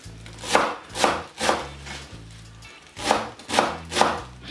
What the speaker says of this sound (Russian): не пытайтесь сразу всю петрушку нарезать за один раз